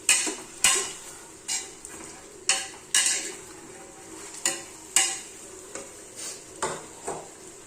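Flat beans and carrot stirred in a pan, a spoon scraping and clinking against the metal in repeated short strokes with a faint sizzle beneath, close and alone with no talk.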